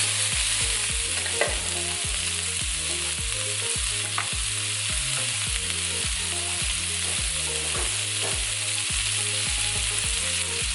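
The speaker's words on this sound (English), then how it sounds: "Let the fat render." Fat rendering in a pan over medium-high heat for bok choy fried rice, a steady loud sizzle and frying hiss throughout, with repeated scraping strokes of a spatula stirring the pan and no voices.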